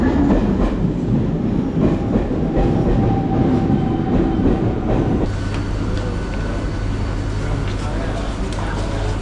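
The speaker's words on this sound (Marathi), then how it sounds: "थोड्या वेळातच आपली ट्रेन येईल." A Mumbai local train at Malad station rumbles loudly and steadily with a clattering rail noise that shifts to a deeper, steadier drone partway through, and voices speak over it.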